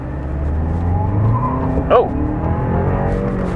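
A Lexus NX200t pulls hard at full throttle, a steady engine roar building from inside the cabin with a short exclamation from the driver partway through.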